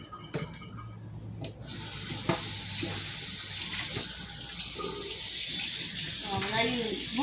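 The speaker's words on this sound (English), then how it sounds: "I just rinse this meat off." Lukewarm tap water runs steadily into a sink while steak is rinsed under the stream, with a few clinks at the start and faint sounds near the end.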